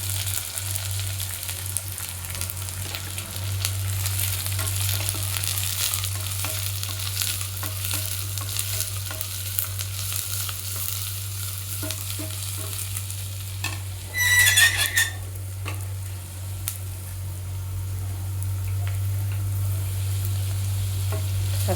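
Onions fry in hot oil with a soft continuous sizzle, stirred now and then by a spatula with a brief louder scrape midway, under a steady low hum and with no talking.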